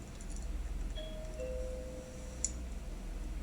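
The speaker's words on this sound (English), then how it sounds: "Let me ring the bell." A soft two-tone chime rings once, like a doorbell heard from a little distance, over a steady low hum.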